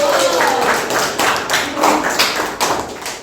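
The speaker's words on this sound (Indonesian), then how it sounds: "Tepuk tangan untuk kelompok 2" Clapping for a student group in a classroom, a close, loud burst of uneven hand claps over a few seconds with a voice briefly audible at the start.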